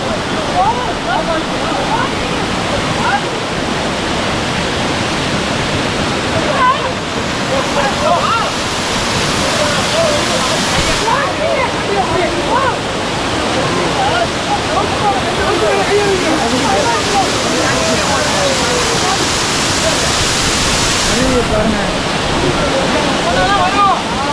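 Masila waterfall in the Kolli Hills pours down in a loud, continuous roar that fills the whole stretch with dense, unbroken rushing water, slightly surging in places.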